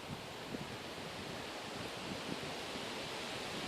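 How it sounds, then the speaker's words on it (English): Wind blows steadily outdoors at a pit-heated shelter camp, a constant broadband rush with faint gusting bumps running through the whole stretch and no voices. "Now the wind's changing direction now"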